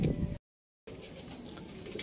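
A racing pigeon back from a San Fernando, La Union race gives soft, close cooing and rustling in a short two-second stretch broken by a brief dropout.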